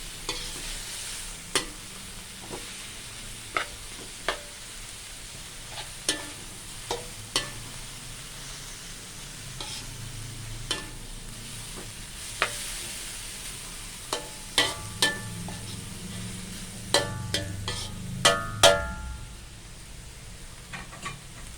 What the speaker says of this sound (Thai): ตัดพริกแล้วก็เลยเอามาผัดเลย ไม่ใช้ตะหลิวเลยวันนี้